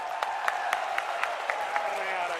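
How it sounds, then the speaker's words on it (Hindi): A crowd at a political rally speech in Morena, Madhya Pradesh, claps steadily, with sharper individual claps popping out every half second or so over the dense applause. "एक बार प्रियंका जी के लिए जरा जोरदार तालियों से उनका स्वागत करें।"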